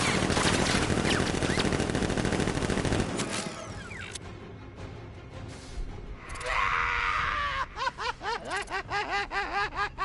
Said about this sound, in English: Guard! Open fire! Shoot everything!